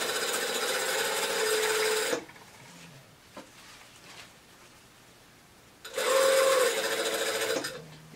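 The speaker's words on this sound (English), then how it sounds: "I'm going to sew down" A sewing machine stitches garment lining down at a shoulder seam in two steady, close bursts of whirring, separated by a quiet pause with faint handling sounds.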